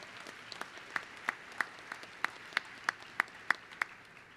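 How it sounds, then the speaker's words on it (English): Sparse, evenly spaced claps ring out at a university commencement ceremony, a steady rhythm of about a dozen distinct sharp hand claps over a quiet hall. "Another round of applause."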